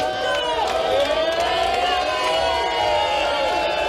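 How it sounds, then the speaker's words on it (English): Crowd cheering and shouting at a live rap battle event, a steady roar of many voices at moderate loudness that continues for several seconds. "the crowd went crazy"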